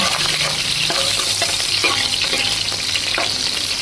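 Onions and green chillies fry in hot oil in a pan, giving a dense crackling sizzle with scattered sharp spits and light stirring clatter, steady and close, no one speaking.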